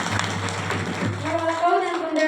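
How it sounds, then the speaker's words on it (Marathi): An audience at a devotional kirtan breaks into brief rhythmic hand clapping, close and dense for about a second before fading under a sustained drone and tonal voices. "त्यांच्यासाठी सुंदर टाळ्या वाजव."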